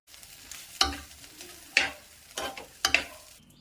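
Squid stir-fried in a pan with a crushed coconut mixture, four sharp scraping stirs spaced about a second apart over a faint steady sizzle, alone and close.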